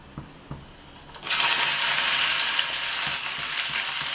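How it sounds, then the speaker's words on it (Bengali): Chopped onion and nigella seeds drop into hot oil in a home kitchen and erupt into a loud, steady sizzle that starts abruptly and holds, after a few soft clicks at the start. "আমার তেলটা গরম হয়ে গেছে, এবার একটু কালো জিরে ফোড়ন দিচ্ছি। দিয়ে পেঁয়াজটা দিয়ে দিলাম।"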